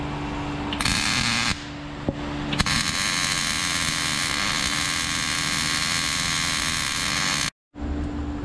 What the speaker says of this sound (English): I'll do the full 360 weld.